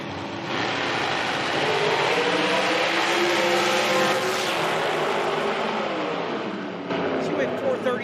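An American nitro dragster at an IHRA Outlaw Nitro drag strip in Salem, Ohio, roars down the track, a loud, sustained, dense engine blast filling the whole stretch, with a commentator talking over it.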